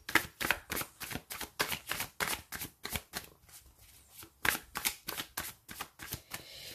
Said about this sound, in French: On tire une dernière carte pour voir l'issue du tirage.